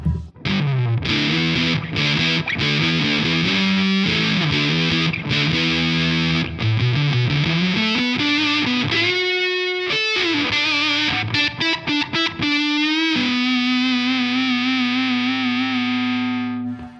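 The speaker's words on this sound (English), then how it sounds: "this fuzz is a noise machine" Loud, heavily distorted electric guitar through a Walrus Audio Fundamental Series fuzz pedal on the bridge humbucker, with riffs and bends sliding into a long sustained, buzzing note.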